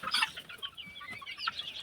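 Chickens about two and a half months old on a poultry farm in Assam, clucking in quick, soft, overlapping bursts close by, with no voices.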